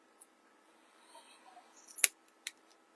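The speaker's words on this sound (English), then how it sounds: "just trim the corners." Scissors trim fabric corners for a small sewn swim bag, giving a few faint, quick snips close by in an otherwise quiet room.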